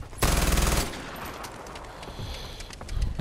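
A loud burst of rapid automatic gunfire from guns in Far Cry 4 rattles for about half a second, then trails into echoing reverberation and scattered fainter shots.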